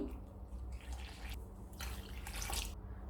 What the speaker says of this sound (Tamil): முதல்ல ஒரு 2 கப் அளவு தண்ணி சேர்த்துருக்கேன்.